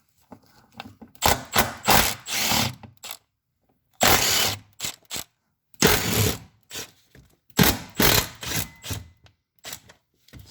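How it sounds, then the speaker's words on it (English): A Milwaukee cordless impact wrench zips off 13mm bolts and nuts under a BMW 735iL E32 during a driveshaft center bearing job, in several loud bursts of one to two seconds separated by short pauses. "I need to remove these 13mm bolts and nuts. Now, of course, I'm using my trusty Milwaukee impact."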